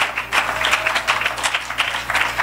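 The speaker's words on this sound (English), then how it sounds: "Somebody clap onto the Lord." A church congregation clapping in a loud, fast, continuous patter of many hands, with a low hum underneath.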